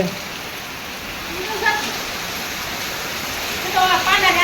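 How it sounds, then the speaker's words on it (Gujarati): Heavy rain pours down in a village, a loud, dense and steady roar of water close by, with a few faint voices and a child's call rising over it near the end. "જોઈ શકો છો વરસાદ એકદમ ફૂલ ચાલુ થઈ ગયો છે"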